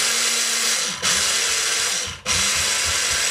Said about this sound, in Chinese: 先将80克黑芝麻放到搅拌机里面